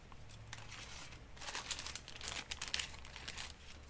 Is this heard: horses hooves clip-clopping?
no